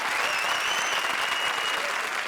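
Loud, dense applause from an audience on a comedy show, a steady unbroken wash of many hands clapping together with no gaps.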